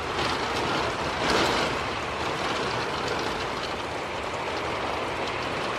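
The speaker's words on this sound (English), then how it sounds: "We have mist coming that way and then the other rain this way." Heavy rain from a severe thunderstorm pours down in a dense, steady hiss, close and loud, with a brief surge early on and no voices.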